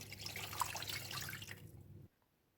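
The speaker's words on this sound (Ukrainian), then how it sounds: "додати воду, щоб покрило м'ясо" Water pours steadily into a pot of pork head and hock meat with a rushing, splashing hiss for about two seconds, then stops abruptly, leaving near silence.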